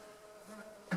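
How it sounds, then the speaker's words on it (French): Bees buzz inside honey supers brought indoors after the summer harvest, a steady close drone with a sharper loud burst at the end as one flies near, and no talk. "problème, il reste toujours un petit peu des abeilles dedans"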